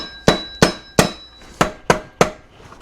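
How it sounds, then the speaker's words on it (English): Six evenly spaced hammer taps on a metal camshaft pulley of an ALH Jetta engine, each sharp strike followed by a brief ringing tone, close and loud. "Give this a bit of a tap with my hammer."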